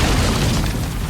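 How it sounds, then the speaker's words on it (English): A practical on-set explosion in the Birds of Prey film: a loud, dense, full-spectrum boom lasting about a second, heavy in the low end, with no voices over it. "And that explosion was practical."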